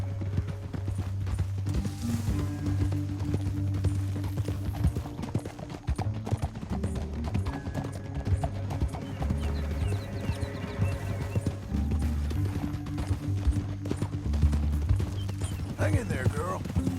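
Horse hooves clip-clop steadily throughout a Red Dead Redemption 2 ride, with a whinny and game music beneath, continuous and fairly loud while characters talk.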